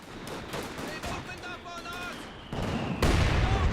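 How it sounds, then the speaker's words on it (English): A mortar shell explodes in the video game Company of Heroes 2, a sudden loud blast near the end following scattered battlefield gunfire, with a commentator's voice running underneath. "Great mortar hit there onto the Volksgrenadiers"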